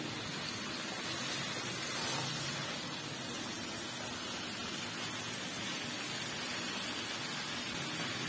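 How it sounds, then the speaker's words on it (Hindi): Marinated mutton chops go into about three tablespoons of hot oil in a pan, giving a steady, dense sizzle that hisses evenly from start to finish with no talking. "मैं इसके अंदर मैरिनेट की हुई चॉप्स डाल दूंगी सारी।"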